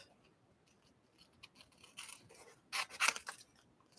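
Scissors fussy cut paper for a handmade card in a quiet room, with soft scattered snips that build into a cluster of louder, close crisp cuts near the end.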